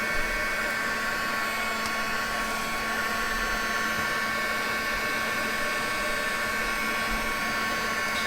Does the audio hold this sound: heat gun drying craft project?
yes